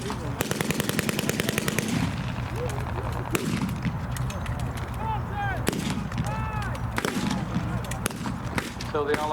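Gunfire from a 1943-style wartime reenactment firing line, with rapid rattling bursts and scattered single shots cracking over a steady background hum, while people talk and crowd noise runs underneath.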